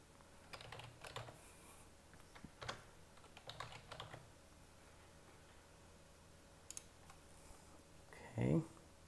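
Username and password being typed on a computer keyboard: quiet, irregular clusters of soft key clicks over a low room hum, with a faint voice in the background.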